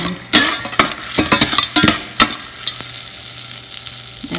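Almonds sizzle in melted butter as a utensil stirs them, loud scrapes and clinks against the pan over a steady frying hiss that settles toward the end.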